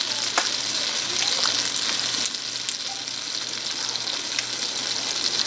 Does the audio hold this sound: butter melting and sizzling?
yes